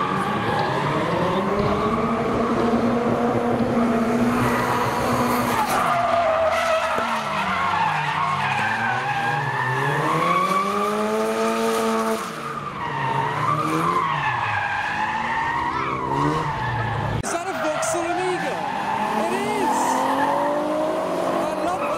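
Modified drift cars sliding in tandem, tires skidding and squealing in long wavering howls over loud engine noise, sustained and close throughout, with people talking underneath.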